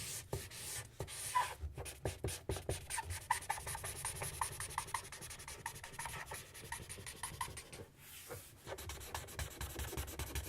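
Copic alcohol markers color in a print on paper, giving continuous soft scratchy rubbing strokes, close and steady, with rhythmic stroke patterns and brief pauses, no talking.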